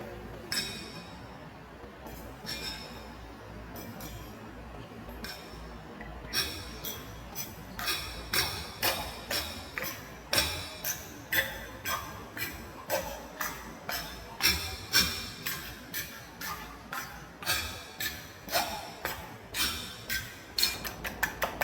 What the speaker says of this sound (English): now that the eggs are beaten up